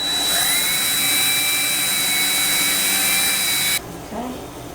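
A power drill bores a centre hole into a wooden media rack, a loud steady high whine running nearly five seconds before cutting off abruptly, leaving a faint rustle.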